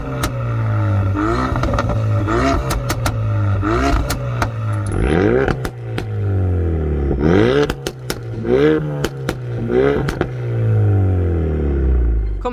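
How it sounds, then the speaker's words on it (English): Exhaust revs from a standard BMW M140i and a modified 420bhp Mountune Focus RS, loud and close, a series of sharp throttle blips rising and falling over a steady idle rumble, with no talking. "I've got a couple of exhaust clips now, so we can have a good old fashioned rev off."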